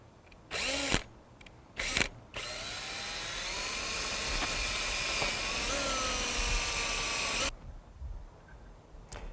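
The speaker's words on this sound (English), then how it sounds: "We're now going to go ahead and drill into the post." A power drill bores into a metal greenhouse post during assembly of a Sunglo Model 1000C greenhouse, giving two short bursts and then a steady high whine for about five seconds before stopping, close and loud with no talking.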